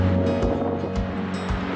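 Pacific ocean surf washes in a constant low roar along the coast, mixed with wind buffeting the microphone in short gusts.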